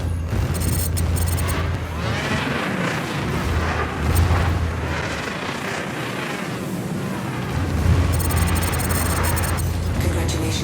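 Missiles and explosions in a video game rumble continuously as heavy booms and blasts, loud and close, with bursts of louder impact around the middle and near the end.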